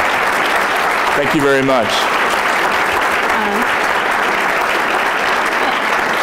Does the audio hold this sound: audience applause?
yes